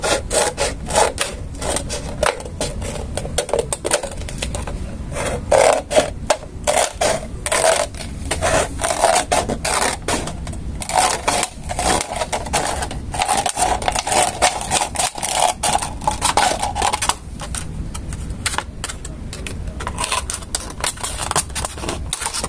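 A plastic soda bottle is cut for a recycled flower craft, giving a long run of rapid, loud rasping and crunching snips close up with no talking.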